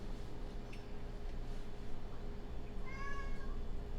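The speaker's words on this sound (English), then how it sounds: "And that's my cat." A pet cat meows in a home kitchen, a short faint cry early on and a clearer, drawn-out meow near the end, over a low steady background hum.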